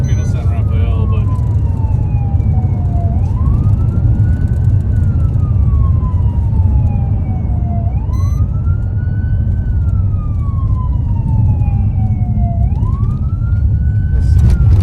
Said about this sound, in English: Usually I can shut down the siren at Camino San Rafael